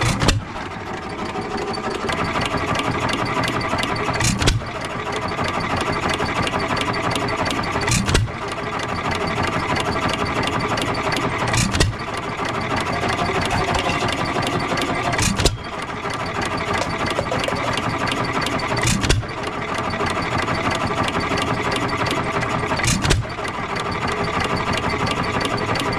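A 3 HP Economy Model 3G hit-and-miss engine runs steadily up close, a continuous mechanical clatter punctuated by sharp firing bangs roughly every three to four seconds, with no talking.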